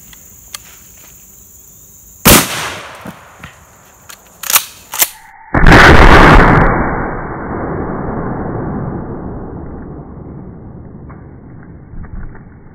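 A G2 Research R.I.P. round is fired at a large wooden post target at an outdoor range, with a few sharp cracks followed by one loud, close gunshot that trails off into a long, rumbling decay.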